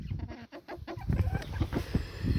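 White hens cluck close by in a farmyard flock, a busy run of short overlapping clucks and throaty murmurs with a few louder squawks, continuous and fairly near.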